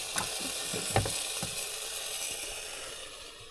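Breakfast sausages sizzling in a pan, outdoors at Devoke Water in Cumbria, a quiet, steady hiss with a few soft clicks and pops early on, fading slightly toward the end.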